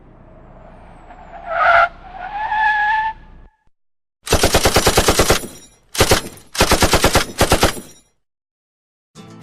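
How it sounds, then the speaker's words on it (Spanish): Tires screech in a rising squeal, then after a brief silence several loud bursts of rapid automatic gunfire rattle out, separated by short gaps. "De la nada se escuchó un auto derrapando."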